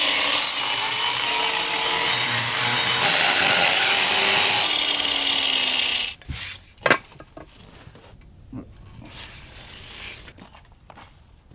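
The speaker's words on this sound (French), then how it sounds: "Pour le reste, utilise la meuleuse d'angle." An angle grinder cuts paving stones for a paved courtyard driveway, making a loud, steady, whining grind for about six seconds. It then cuts off, followed by scattered knocks, scrapes and handling noises.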